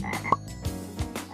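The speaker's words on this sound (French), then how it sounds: "Elle a attrapé un crapaud et elle lui a laissé faire le ménage avec sa super grande" A cartoon-style toad gives a short series of croaks over about a second, with one sharp higher blip early on, fairly close and clear with no talk.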